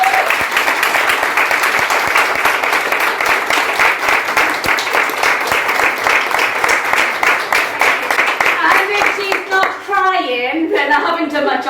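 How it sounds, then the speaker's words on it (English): A room of people at a menopause celebration event gives a loud, sustained round of clapping close by, which trails off as voices and chatter rise at the end. "give a huge big round of applause for Adelle for everything."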